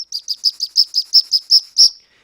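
Bird call instrument imitating birdsong in a musical piece: a run of about ten bright, high chirps in a quick even rhythm, each a little louder than the last, with a longer final note, heard close and alone.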